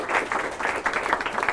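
An audience applauds steadily at a talk, many hands clapping in a dense, close wash that runs with no break and no voices.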